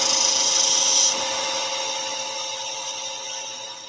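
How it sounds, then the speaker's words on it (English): A spindle gouge shears the top surface of a wooden tenon spinning on a lathe, a steady close scraping whir with a bright hiss that eases slightly after the first second. "we'll just do that with spindle gouge"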